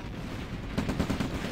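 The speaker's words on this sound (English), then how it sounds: "Arctic, use your artillery." Artillery firing in a real-time strategy video game: a quick cluster of four or five muffled booming shots in the second half, over steady low battle rumble.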